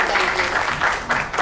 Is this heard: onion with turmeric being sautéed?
no